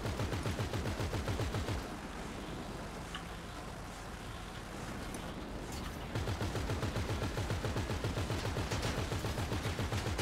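Rapid bursts of automatic gunfire crackle through a Grand Theft Auto V match, pausing briefly mid-clip before resuming loud and dense.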